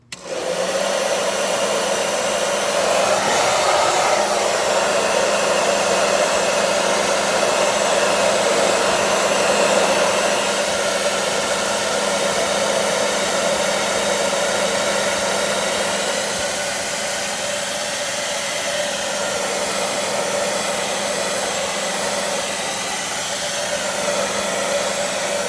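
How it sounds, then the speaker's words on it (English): A hair dryer blows steadily and loudly throughout, a constant whirring roar with a brief bump in intensity early on, heard alone without talk. "you turn your hair dryer, and you warm it up for like 30 seconds"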